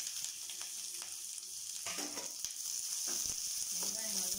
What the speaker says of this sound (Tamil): கருவேப்பிலை, இந்த வரமிளகாய், இந்த வெங்காயத்தை ஆட் பண்ணிக்கலாம்